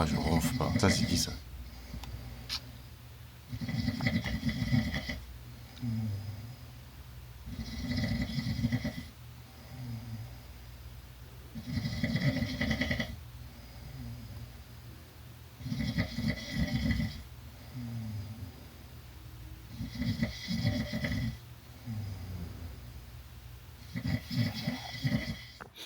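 A person snores while asleep, slow loud rasping breaths repeating roughly every four seconds with quieter gaps between, close by and mostly alone.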